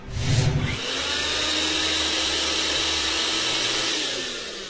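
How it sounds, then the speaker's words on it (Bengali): An electric blender machine runs with a steady, loud whirring motor drone that starts after a brief thump and holds for several seconds, close by and with no voices over it. "ব্লেন্ডার মেশিনটা ছাড়ো তো।"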